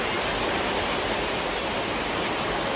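Heavy rain pours in a dense, unbroken hiss, loud and close, with no voices or other sounds cutting through.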